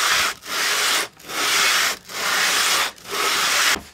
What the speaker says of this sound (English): A good thing to do when you're lapping is go in a figure eight pattern.